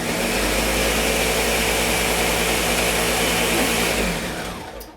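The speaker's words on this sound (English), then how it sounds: "I'm actually going to take my blender and I'm going to blend them just" A blender grinds old-fashioned oats into fine oat flour, a loud, steady whir held for about four seconds before winding down at the end, with no talking over it.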